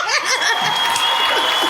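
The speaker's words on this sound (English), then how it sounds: "Give her a round of applause." An audience laughs and chuckles while scattered applause breaks out, lively mixed crowd noise with some voices talking over it.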